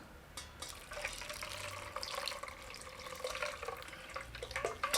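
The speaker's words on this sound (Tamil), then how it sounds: "இது மேலேயே நார்மல் பச்சை தண்ணி சேர்த்துக்கலாம்" Plain tap water runs from a faucet over drained, cooked vermicelli in a kitchen, a steady close splashing stream with small drips and clatters, and no talking.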